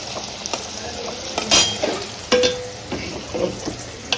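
Pointed gourd (kakrol) frying in a pan on a home stove, a soft steady sizzle broken by intermittent scrapes and clinks of a spatula stirring against the pan.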